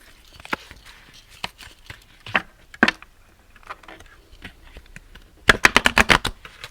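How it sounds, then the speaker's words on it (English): Tarot cards being shuffled on a table, scattered soft riffles and taps, then a quick burst of sharp snapping riffles near the end, close and crisp with no voices. "I kind of want to do a better shuffle than that"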